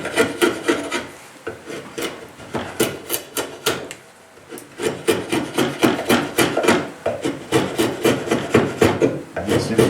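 A hand-forged draw knife shaves a piece of hardwood oak in loud, rhythmic rasping strokes, each scrape rising and cutting off sharply, with a short pause midway before the steady shaving resumes.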